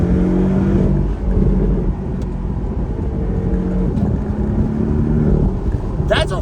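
A 2018 Porsche 718 Boxster convertible with a four-cylinder engine drones and revs steadily under wind noise, with a voice over it.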